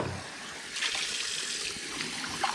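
A milk frother jug is rinsed under a running kitchen tap, with a steady close rush of water and small splashing changes as the jug moves under the stream.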